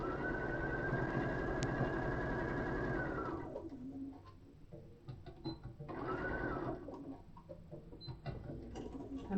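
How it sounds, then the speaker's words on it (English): A sewing machine joins puff quilt block pieces with right sides together, running in a steady whir for about three seconds, pausing, then stitching again in a second shorter burst, close and clear with no talk. "I'm going to put those right sides together like that, and sew those 2 together."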